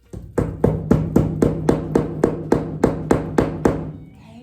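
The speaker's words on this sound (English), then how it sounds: "I grab a nail and a hammer" A hammer drives a nail with about a dozen steady, evenly spaced strikes, each a sharp close knock that decays quickly, with no talking over it.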